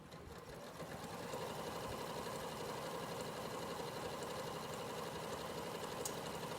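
A sewing machine runs steadily over diagonal seams while stitching a fabric reading pillow, a continuous close mechanical whir with a rapid needle rhythm and no speech.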